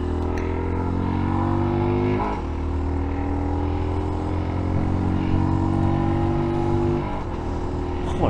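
A motorcycle engine drones steadily while riding over the Jaunpass in Switzerland, close and continuous, with brief dips around shifts before the hum resumes.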